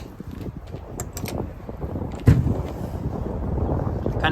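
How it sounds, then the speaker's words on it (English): Steady wind gusting against the outside of a 2013 Forest River Coachmen camper trailer, a constant low rumbling buffet close to the microphone with a brief louder gust partway through. "it's really windy"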